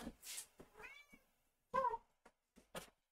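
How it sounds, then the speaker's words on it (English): A domestic cat meows outside a door, calling to be let in: several clear, fairly close meows in a short burst with brief quiet gaps and no talk over them. "could you hear her meowing outside the door?"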